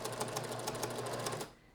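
A sewing machine stitches the hem of a chiffon dress in a fast, even run of needle clatter, close and moderately quiet, then stops abruptly just before the end.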